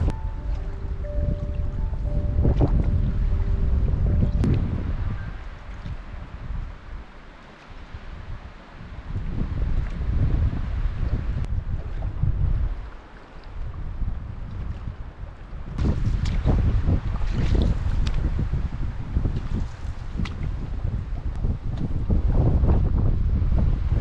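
Strong, gusty wind buffets the microphone on a lake in Algonquin Provincial Park, Ontario, during a canoe trip, with lapping water and choppy waves beneath it; loud, continuous roaring with brief lulls and no talking.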